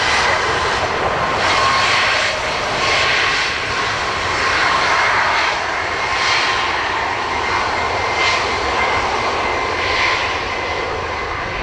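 A jet airliner powers up and rolls for takeoff on runway 10 right at Dublin Airport, a loud, sustained engine roar with a steady whine that swells and surges slightly throughout, with no voices.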